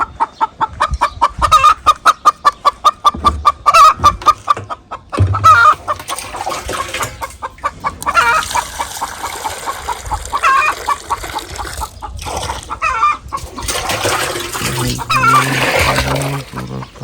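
A hen clucks after laying an egg, a rapid run of loud, close repeated clucks followed by more irregular cackling calls amid farmyard background noise.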